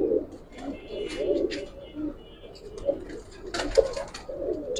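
Giribaz pigeons coo softly and repeatedly nearby, low throaty calls with faint rustling around them and people talking intermittently.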